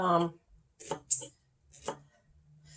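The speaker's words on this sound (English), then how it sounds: "now I've sliced it so that I can cut it into 1-inch cubes" A knife chops a peach or cucumber into 1-inch cubes on a board, giving three or four crisp, separate thunks at an unhurried pace after a brief bit of talk.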